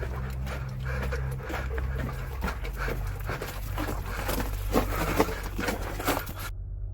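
A dog pants and breathes hard while running alongside its owner outdoors, the rhythmic panting steady and close, mixed with movement noise and a low rumble throughout.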